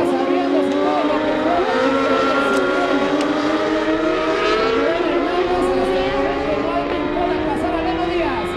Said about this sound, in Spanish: Reno Díaz está acelerando en las curvas, saliendo fino de la zona del árbol